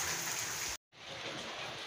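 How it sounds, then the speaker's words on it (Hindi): Rain falling on a morning at home, a dense steady hiss of drops filling the clip, broken by one brief silent gap before resuming. "शुक्र अल्लाह पाक ने रहमत की है बारिश की।"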